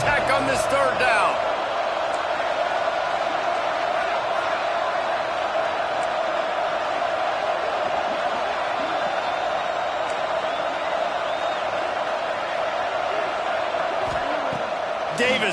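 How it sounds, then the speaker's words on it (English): A stadium crowd at a Texas Tech college football game roars steadily through a third down, a loud continuous wall of cheering and noise, with an announcer talking over it. "The crowd electric, trying to help Tech on this third down."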